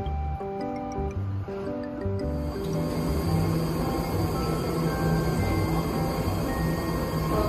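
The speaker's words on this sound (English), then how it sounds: "riding the metro." A metro train rides from Millbrae toward downtown San Francisco, with a continuous loud rumble, layered whining tones and faint rhythmic clicking of the wheels throughout.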